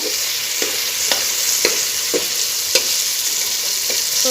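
Corn kernels for popcorn fry in oil in a pan with a bright continuous sizzle. Faint regular ticks and light pops recur about every half second, close and moderately loud.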